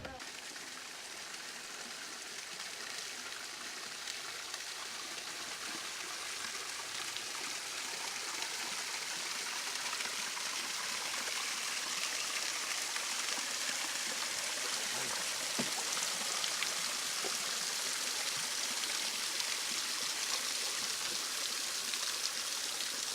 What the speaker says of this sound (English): You can hear the waterfalls coming off on many spots on this river.